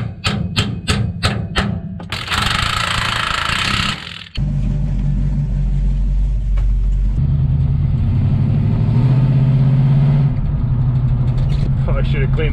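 A 1954 Ford F100 pickup fitted with a Pontiac 400 engine, after sitting for 12 years, starts with a door clunk and rumbles loudly at close range, idling and pulling away with a deep engine drone.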